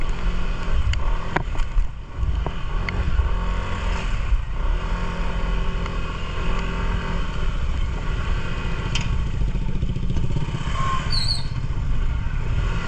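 A motorboat engine drones steadily on the Agos river in Infanta, Quezon, a loud continuous hum with wind buffeting, close and unbroken for the whole stretch, with no voices.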